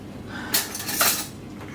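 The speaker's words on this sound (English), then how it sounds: "stirring away" A utensil scrapes and clinks inside a bowl while chocolate mousse mixture is stirred, two brief bright bursts of metal-on-dish contact close by with no talk.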